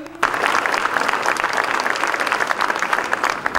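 Sustained applause from a crowd at a folk tribute ceremony honoring an artist. The clapping starts abruptly and continues as a dense, steady patter, with a little crowd noise mixed in.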